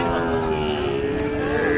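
Cattle lowing at a busy Amborhi livestock market where Sahiwal bull calves are sold, a dense steady bellow under crowd noise and nearby voices for nearly two seconds.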